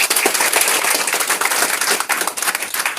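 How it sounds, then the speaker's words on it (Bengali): Audience at a training seminar in Bangladesh clapping together for Forever, a dense, steady round of applause filling the room for a few seconds. "আগে ফরএভারের জন্য একটা হাততালি দেন।"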